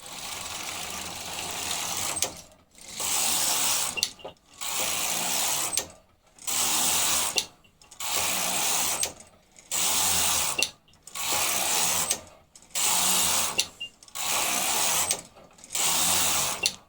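A knitting machine carriage slides back and forth across waste yarn at high tension, each row a loud, rasping mechanical sweep of about a second, separated by short pauses in a steady back-and-forth rhythm, with no talk.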